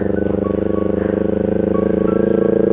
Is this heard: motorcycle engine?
yes